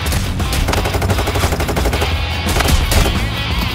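Payday 3 gunfire rattles loud and steady in rapid automatic bursts, with single shots mixed in, for several seconds.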